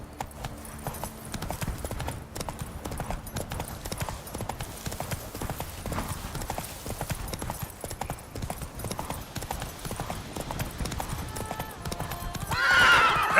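Roach, a horse in the video game Witcher 3, gallops in quick continuous hoofbeats, loud and close, while a neigh rises near the end.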